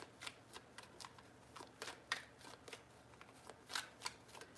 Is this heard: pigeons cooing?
no